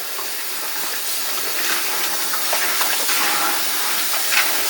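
Running water rinses a tray of barley seeds being prepared as animal fodder, a steady close hiss and splash with small irregular spatters throughout.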